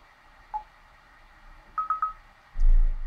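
A telephone dialer plays DTMF tones, a single short beep followed by a quick run of three beeps, each clear and near against a quiet background, then a low thump at the end.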